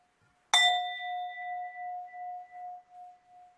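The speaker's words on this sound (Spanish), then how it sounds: "No abras los ojos hasta que escuches un gong." A single gong struck once during a quiet mindfulness meditation, with a sharp metallic attack that settles into a pure, steady ringing tone and fades slowly over several seconds, heard alone in silence.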